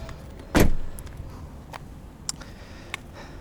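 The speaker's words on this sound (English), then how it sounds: "to open the rear door, push the button, you'll see it props itself open" A 2021 Ford Mustang Mach-E Select AWD's electronic rear door releases with one short, loud pop followed by a fading rustle, then a few faint clicks in an otherwise quiet setting.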